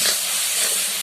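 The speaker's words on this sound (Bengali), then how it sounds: "ভালো করে মশলাটা একটু কষিয়ে নেবেন" Spice paste of onion, turmeric, chilli powder and salt frying in hot oil for a fish curry, making a loud, even sizzling hiss close by that runs unbroken for about a second.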